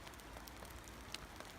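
Rain patters on a hammock camp in Borrowdale in the Lake District, a faint steady hiss of drops with a few sharper ticks standing out here and there.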